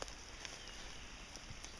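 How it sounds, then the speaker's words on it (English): Steady light rain falls outdoors over a hugelkultur garden with a water-holding swale, a soft, even patter with occasional sharper drops, constant and close. "I thought I would take the opportunity to film while it's actually raining."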